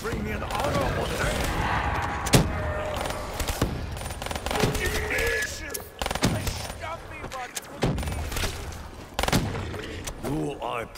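Rapid bursts of gunfire in an online Moon-map multiplayer shooter, with close shots and fusillades scattered across the clip under excited players' voices.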